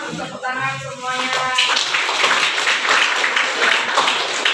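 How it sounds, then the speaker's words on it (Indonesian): A group clapping together in applause: a dense, steady patter of many hands that continues for several seconds after a voice speaks briefly at the start. "Kita tepuk tangan semuanya."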